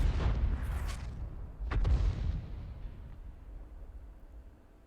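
A tank gun in the video game Ace Tanker, the AMX 105 AM mle. 47, fires two heavy booms at a ridgeline, each followed by a long rumbling decay that fades out.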